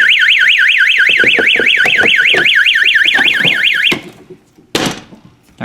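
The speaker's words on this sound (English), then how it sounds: "Turn the alarm back on." A fire alarm system under test sounds a loud, rapidly warbling electronic siren for about four seconds before cutting off, followed by a couple of short clunks and knocks nearby.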